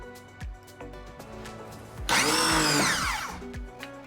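A Ryobi pressure washer kicks on about halfway through, its motor rising into a loud, close whine with a sweeping pitch that settles into a steady roar, after quieter clicks and handling noises.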